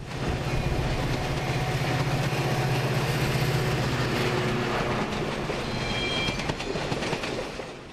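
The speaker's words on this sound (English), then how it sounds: "Metra's other locomotives are the smaller F40PH model, made from 1977 to 1992." A Metra F40PH diesel locomotive train rolls past, with a loud steady rumble and rhythmic wheel clatter, plus faint squealing toward the end, close by and with no talk.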